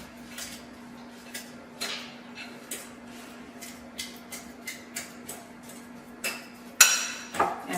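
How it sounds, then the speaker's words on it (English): Ripe bananas mashed with a fork in a bowl for muffin batter: soft, irregular clicks and scrapes of metal against the bowl over a faint steady hum, with a louder clatter near the end. "I'm going to smash my bananas with my fork"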